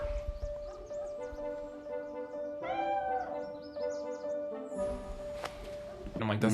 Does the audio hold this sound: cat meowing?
yes